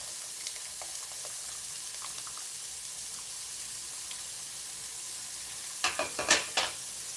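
Cajun trinity vegetables hit a hot pan while crawfish mac and cheese is cooked, giving a steady broad sizzle that swells into a louder burst of crackling near the end, with no talking.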